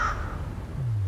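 A crow caws once, loud and near, a single short call in a town or village setting, followed by a low background hum.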